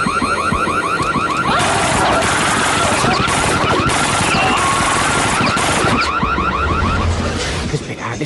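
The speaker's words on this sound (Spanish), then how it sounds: "Si abríamos la puerta, la alarma saltaría." A loud, continuous electronic alarm blares in a video game after a door is opened, a pulsing, warbling tone that fills the whole stretch with dense noise and rapid bursts layered underneath, ending abruptly.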